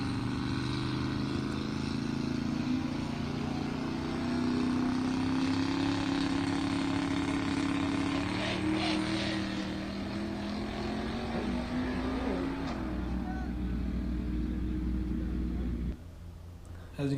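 A boosted car makes a drag pass on a track day, its engine droning loud and continuous with tones climbing through the gears before the roar drops away abruptly near the end.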